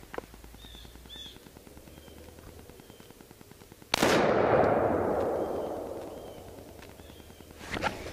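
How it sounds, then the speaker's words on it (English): A single loud, close shot from a Remington 700 rifle in 6mm strikes a half-inch steel plate, its sharp crack trailing into a long echoing decay outdoors, with faint birdsong and a second impact-like snap near the end. "I'm gonna shoot a plate steel with it"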